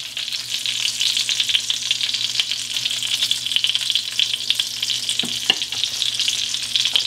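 Arctic char fillet frying low and slow in garlic butter while being basted, a close, steady crackling sizzle with scattered sharper pops throughout.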